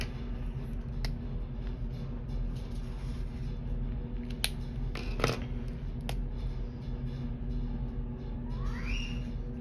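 Scissors snipping planner paper in a quiet room, a few separate crisp cuts scattered over a steady low background hum, with a brief rising squeak near the end.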